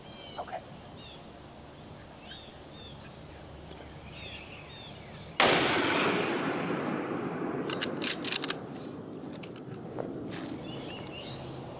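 A rifle shot during a deer hunt outdoors, a single sudden loud crack at mid-clip with a long rolling echo fading across open ground, followed by a few light rustles.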